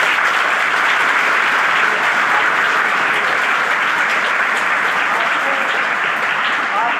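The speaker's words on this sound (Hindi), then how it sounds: "जोरदार तालियां इन बच्चों के लिए" A college audience gives loud, sustained applause for students, a dense steady wash of clapping from a large crowd that fills the whole stretch without a break.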